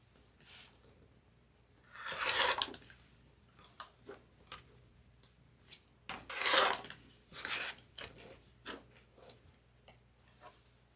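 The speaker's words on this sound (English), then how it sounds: "I'm going to start cutting all of these out" Scissors or a rotary cutter slicing through quilting fabric into 6.5 inch squares for a red, white and blue quilt, with several rasping cutting strokes in bursts and small handling taps between, close and fairly quiet.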